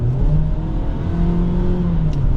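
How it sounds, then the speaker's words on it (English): A 2023 Jeep Cherokee Altitude 4x4 in sport mode accelerates from inside the cabin, its engine note a steady, loud drone that climbs gradually in pitch over a couple of seconds, with no talking. "If I go into sport mode, throttle response just sharpen up a little bit."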